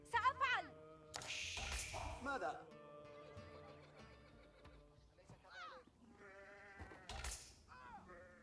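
Sheep bleat in the real-time strategy game Age of Empires IV, with wavering calls mixed among horse whinnies and game effects, while someone talks over the action.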